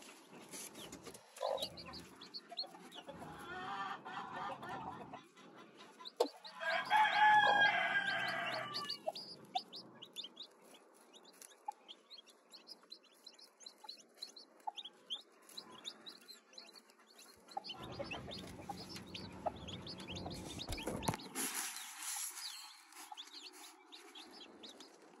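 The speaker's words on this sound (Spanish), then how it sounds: "Oigo que llora el pollito" Newly hatched chicks peep and chirp repeatedly at close range, with scattered higher calls, some rustling and a louder burst partway through.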